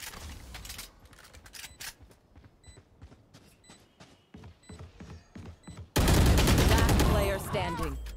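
Rapid video game gunfire during a round after the spike has been planted, sharp repeated shots with a loud sustained burst near the end, with voices talking over parts of it.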